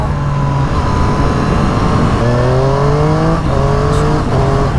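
A 2020 Triumph Street Triple 765 RS motorcycle engine drones loudly and steadily while riding, its pitch shifting up and down through quickshifter gear changes with heavy wind rush.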